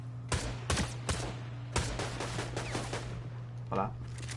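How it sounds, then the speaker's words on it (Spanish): Several sharp Fortnite gunshots crack out in quick bursts over a steady low hum, with brief pauses between volleys. "Disparos, sí."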